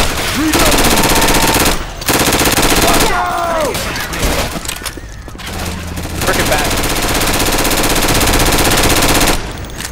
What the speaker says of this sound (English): Watch where you're shooting at me.